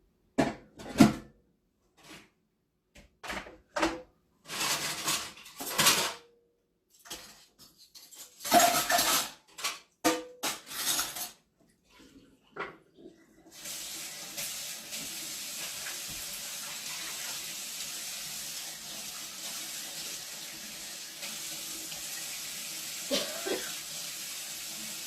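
Dishes being washed in a kitchen sink: scattered clinks and clatters of plates and cutlery, followed by a steady rush of tap water that runs to the end, with no talking.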